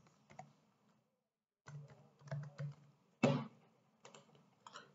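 Bursts of key taps on a computer keyboard as a value is entered into CAD software, close and quiet, arriving in short clusters separated by pauses with no talking.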